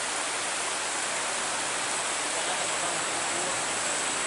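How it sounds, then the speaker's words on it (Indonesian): Steady rain pours in a dense, even hiss, loud and close throughout with no voices over it. "Hujan."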